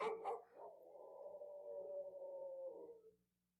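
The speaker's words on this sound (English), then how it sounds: "She's barking." A female dog barks briefly, then lets out a long, steady howl that holds for about three seconds before fading out, heard close and clear.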